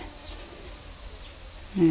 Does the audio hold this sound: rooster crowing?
no